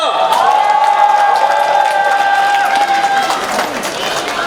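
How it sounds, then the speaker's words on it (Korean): A crowd at an outdoor political campaign rally in Daejeon, South Korea, applauds and cheers loudly, with a voice over the loudspeaker ringing over the dense clapping throughout. "우리 김상욱 의원님께 큰 박수로 보내주십시다"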